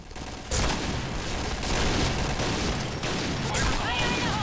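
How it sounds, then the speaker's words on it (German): Grenade blast and bursts of automatic gunfire in the first-person shooter Piercing Blow, a loud boom opening onto a continuous rattle of shots and impacts with a second sharp hit near the end. "Ich werfe da eine Granate rein."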